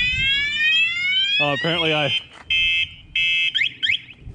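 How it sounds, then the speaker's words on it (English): A Bashan Brozz 250 Chinese dual sport motorcycle's alarm going off loudly and close, a rising electronic siren followed by repeated steady wailing tones and warbling chirps, with a voice briefly speaking over it. "So this thing has an alarm. You see it goes off when you try to ride it."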